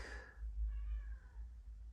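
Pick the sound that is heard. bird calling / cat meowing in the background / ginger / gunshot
cat meowing in the background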